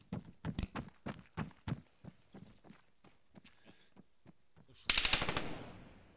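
Gunfire in a competitive capture-the-flag video game match: a run of rhythmic footsteps, then a sudden loud burst of rapid automatic fire that fades out.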